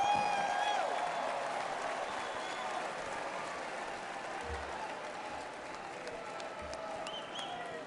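A large crowd at the Republican National Convention in Milwaukee applauding and cheering Speaker Mike Johnson, a dense, sustained wash of clapping heard from within a big arena, gradually easing off.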